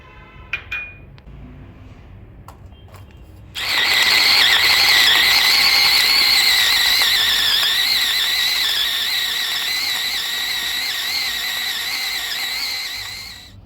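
Mixer grinder coarsely grinding roasted peanuts with salt and amchur powder for thecha chutney: a few soft clinks in near quiet, then a loud, steady, whining grind that runs unbroken to the end.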